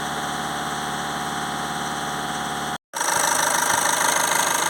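A Volkswagen Tiguan engine idles steadily while warming up, a close, constant hum with an abrupt brief silence partway through, after which it resumes slightly rougher.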